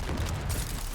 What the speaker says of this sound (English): I'm throwing grenades back.